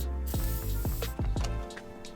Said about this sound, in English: we're gonna go ahead and spray it on these two bolts